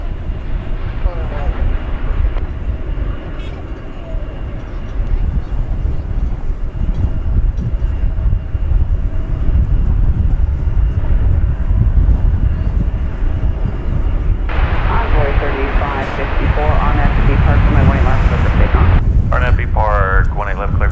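An Airbus A320 jet departs for Guadalajara with a loud, continuous roar of engine noise that swells in the second half, and a voice speaks briefly near the end.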